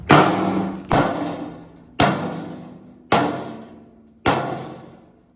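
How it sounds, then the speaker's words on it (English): A baseball bat strikes a ballistic dummy five times at a steady pace, about one second apart. Each blow lands as a loud, close, dull thud that rings briefly and decays before the next hit. "Now we're going to hit this one with a baseball bat."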